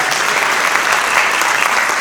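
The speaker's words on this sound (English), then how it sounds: "Another round of applause" Audience at a Ridván celebration in London, Ontario clapping for performers, a thick continuous round of applause, close and loud with no voices over it.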